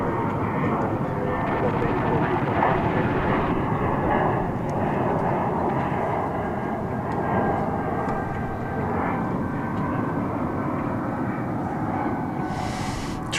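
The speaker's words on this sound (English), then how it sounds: "Turkish is gonna launch from over, no, there it goes, making a turn over to the bridge, to the east side" A Turkish Airlines airliner taking off and banking east at DFW Airport, a broad, loud, sustained jet roar filling the whole span, with a voice talking over it.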